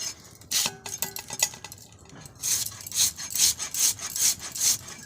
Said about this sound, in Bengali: একদম কচকচ করে কাটিয়ে নিচ্ছি।